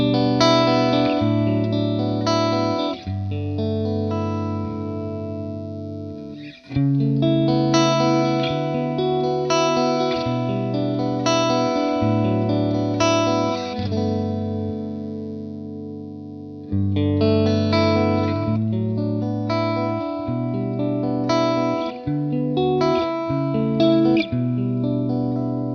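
Electric guitar played through a Vox amp with gain up and the tone cut trimming the top end, sustained distorted chords with a chorus-like shimmer ringing out in phrases, each changing chord overlapping the last.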